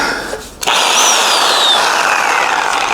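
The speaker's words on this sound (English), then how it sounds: "let's test out these little Amazon Sawzall blades, because they was really cheap" A Sawzall reciprocating saw fitted with cheap Amazon blades starts after a brief lull and then cuts loudly and steadily, a harsh continuous buzz right up close with no speech.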